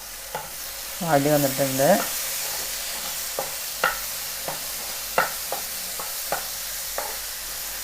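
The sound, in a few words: stirring jackfruit cooking in a pan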